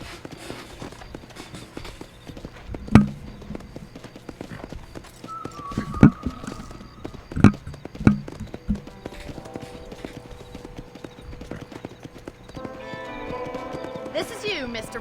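A horse in the Western video game Red Dead Redemption on Xbox 360 clip-clops along and whinnies, with several sharp hoof thumps, game ambience and speech throughout.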